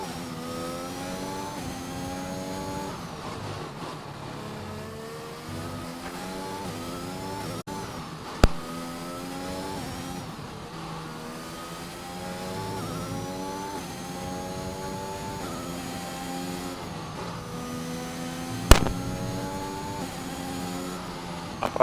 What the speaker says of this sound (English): Neon's going out again on another lap onto the fresh tyres